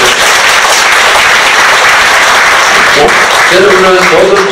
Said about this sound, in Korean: 우리 하나님의 영광의 박수를 올려드립니다